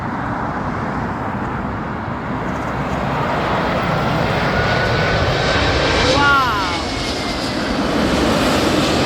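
British Airways four-engine airliner landing at Heathrow, a steady broad jet roar that stays loud throughout, swelling slightly near the end, with a faint rising whine partway through and voices in the background.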